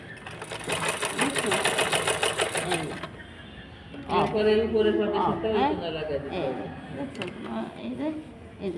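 Sewing machine stitching palazzo trousers, a rapid close mechanical whirr lasting about three seconds, then stopping as someone talks for the rest of the clip.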